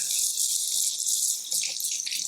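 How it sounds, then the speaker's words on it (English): Tap water runs steadily into a kitchen sink as a small knife is rinsed under it, a close, continuous hiss with slight splashing changes, no voices. "I'm going to give my little knife a wash."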